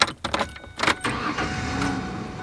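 A Ford 3-liter V6 engine cranks and catches, with a few sharp clunks giving way to a steady, close running rumble that settles quickly.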